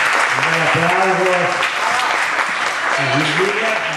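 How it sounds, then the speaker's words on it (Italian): An audience applauds at a dog dance competition in Milan, with sustained, dense clapping. Voices talk over it, including a sung or drawn-out tone at the start and near the end. "Un bel applauso."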